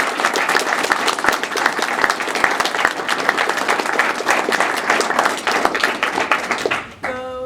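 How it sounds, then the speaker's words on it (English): An open mic audience claps in sustained applause, a dense steady patter from many hands that fades near the end. "I just want to give everybody a round of applause"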